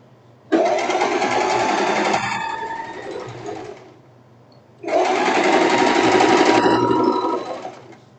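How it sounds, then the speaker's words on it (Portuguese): A sewing machine stitches the armhole of a silk tank top in two loud, steady bursts of fast whirring, each a few seconds long and separated by a brief quiet pause. "Então, vamos costurar aqui. Nossa parte da cava."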